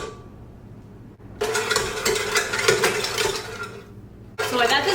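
Stand mixer with a whisk attachment beating macaron mixture, a steady whirring drone with a rattling, clattering texture that starts abruptly, runs continuously, stops briefly and then resumes.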